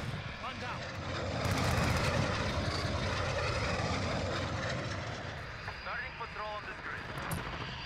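A VTOL aircraft engine in a shooter video game drones steadily as a loud, rumbling roar that swells and eases, with a voice speaking over it.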